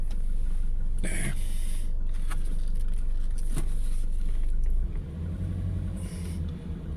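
A car with a manual transmission drives at night, its engine and road noise rumbling steadily throughout, with a brief shift in pitch partway through as the engine note drops.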